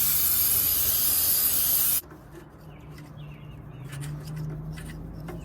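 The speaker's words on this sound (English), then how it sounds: "since contact cleaner dries super quick, if I just like hose her in there a bit, might help dry the inside" Contact cleaner sprays from an aerosol can into a car part in a loud, continuous two-second hiss that cuts off abruptly, followed by quiet room tone and faint clicks.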